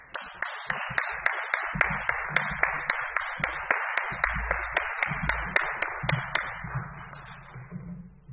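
Audience clapping fills a hall after a talk on building an applied accordion department at the University of Alabama, starting with a few distinct claps that swell into steady applause, then slowly thinning out and fading near the end.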